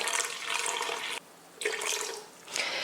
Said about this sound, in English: then we're gonna add in our water